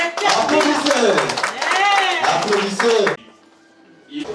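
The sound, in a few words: audience applause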